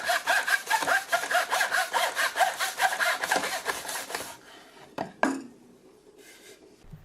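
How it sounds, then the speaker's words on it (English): A hand saw cuts through 1x6 pine in a large miter box, about fifteen quick rhythmic back-and-forth strokes close up, then the cut ends with a few knocks and clatters of wood. "These are the only pieces that need to be somewhat square, so I'm cutting them in my rather large miter box."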